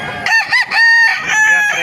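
A Kelso rooster, about eight months old, crows loudly and close by at a poultry market in Calumpit, one strained drawn-out call with a short break partway through.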